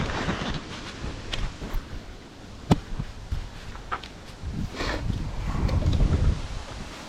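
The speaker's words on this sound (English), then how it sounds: "It's very windy today." Strong wind blowing outdoors at a campsite where a Trangia methylated-spirits stove is being lit, a broadband rumble with gusts that rise and buffet the microphone, plus a few sharp clicks and knocks, louder toward the end.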